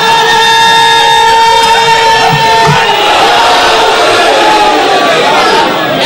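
A crowd at a religious majlis gathering roars in a loud, sustained collective chant, voices blending into a dense continuous wall of sound with shouted slogan tones throughout.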